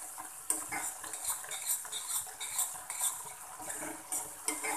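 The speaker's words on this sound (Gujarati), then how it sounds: "અને આપણે સાંતળી લેવાની છે" A spoon scrapes and clinks rhythmically around a pan while tomato bhaji masala is sautéed, with a soft sizzle of oil underneath, close and fairly quiet.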